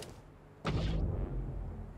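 A shockwave grenade goes off in Fortnite with a sudden loud burst. Its blast rumble fades slowly over the next second or so, with nobody talking.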